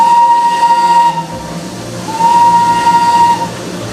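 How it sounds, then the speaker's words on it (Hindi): A train in the mountains sounds its whistle loudly and close by in two long blasts with a short gap between them, over the rumble of the passing train. "और क्या पता ये ट्रेन आपके साथ साथ ही चलने लगे"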